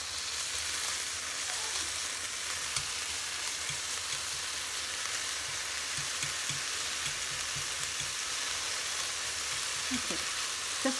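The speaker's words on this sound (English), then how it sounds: "I'm going to cook in some bacon" Bacon sizzles in a pan until crispy, a soft continuous hiss and crackle with occasional small pops, fairly quiet and steady with no talking.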